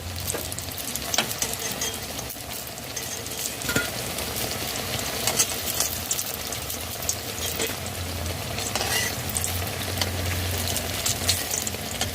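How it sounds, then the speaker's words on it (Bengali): Eggplant slices fry in a pan over high flame, giving a loud, continuous sizzle and crackle that holds steady throughout with no talking. "হাই ফ্লেমে 4 মিনিট ভেজে নিয়েছি।"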